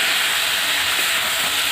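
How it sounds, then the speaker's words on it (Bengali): Cabbage stir-fries in hot oil, giving a loud, continuous, close sizzling hiss with no voices over it. "দেখো না কেমন হয় বাঁধাকপিটা বেশ কষিয়ে নিচ্ছে অনেকক্ষণ ধরেই"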